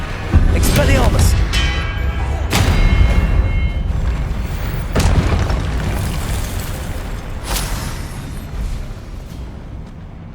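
In the Hogwarts Legacy video game, an Expelliarmus spell and other combat spells go off as a series of deep booming bursts and whooshing impacts, spaced a couple of seconds apart over a rumbling battle background.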